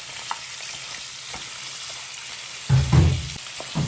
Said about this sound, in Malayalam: ഇനി നമ്മൾ ചെറുതായിട്ടൊന്ന് ഇളക്കി കൊടുക്കാം